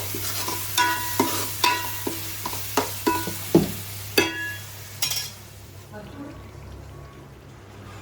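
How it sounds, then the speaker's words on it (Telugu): Chicken simmering in a pot for biryani, with a series of sharp stirring and scraping knocks against the pot for about five seconds over a steady low hum, then quieter bubbling. "ఇప్పుడైతే చికెన్ చికెన్ ఉడుకుతుంది"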